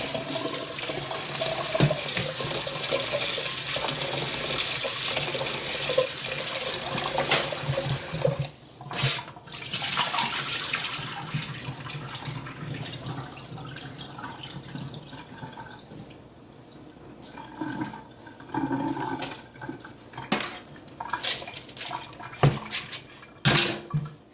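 Water runs and splashes steadily as beef and pig's tail are rinsed in a bowl for a Jamaican stew, with sloshing, dripping and occasional clinks of the container throughout.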